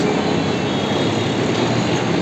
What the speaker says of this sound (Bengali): দেখি দেখি দেখি ট্রেনটা স্লোয়িং ডাউন এখনও হয়নি এখনও হয়নি শ্রীলঙ্কা ট্রেন